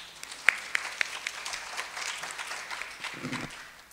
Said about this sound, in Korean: 김주미 연구원님 큰 박수로 모시도록 하겠습니다